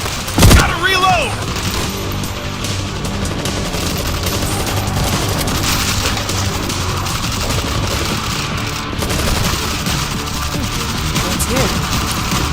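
Heavy gunfire in the World War Z video game, Jerusalem chapter: sustained automatic bursts and booms that run steadily throughout, with a sharp blast near the start.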